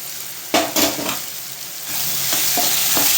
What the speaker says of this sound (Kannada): ಮತ್ತು ಚೆನ್ನಾಗಿ ಇದನ್ನು ಫ್ರೈ ಮಾಡ್ಕೊಳ್ಳಿ.